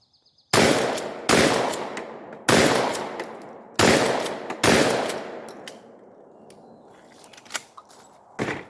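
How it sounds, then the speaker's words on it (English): A Lynx 12 AK-style 12-gauge shotgun fires five loud, sharp blasts in quick succession, each trailing off in a short echo, followed by fainter clicks and handling noises. "I'm gonna try and shoot this gun as fast as I can."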